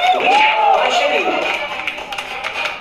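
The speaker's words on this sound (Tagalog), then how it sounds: "Parinig nga po na inyong palampakan sa kanya ng sigawan." A crowd applauds and cheers at a live stage event as a performer is welcomed, with sustained clapping and shouts filling the space while people talk over the noise.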